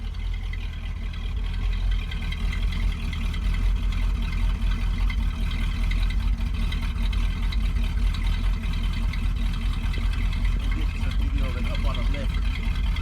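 A 1977 Ford F-250 pickup's deep engine idles steadily with a throaty dual-exhaust rumble throughout, with a voice briefly audible near the end.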